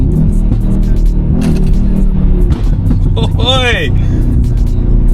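A Mercedes G-Wagon in sport mode revs hard, its engine roaring loudly up close with a sharp rising-and-falling surge, while people talk and exclaim over it inside the vehicle.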